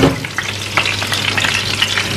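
Beef tongue spits and sizzles as it fries in a pan with a spoonful of butter and oil, loud close crackling with sharp pops throughout and no talk.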